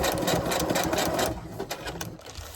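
Sewing machine lock-stitching fabric for a kite arch, a steady close motor whir with rapid needle ticking, easing slightly toward the end as the seam is angled.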